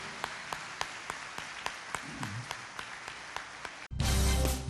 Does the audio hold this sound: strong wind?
no